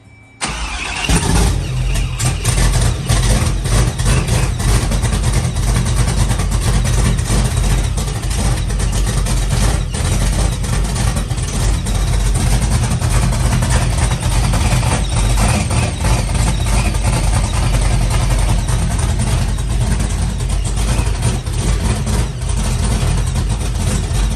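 Loud, steady roar of a Pro Charged Trans Am 408ci engine at its first start-up: it catches after a brief crank and then runs hard and rough at a high idle for over twenty seconds without a break.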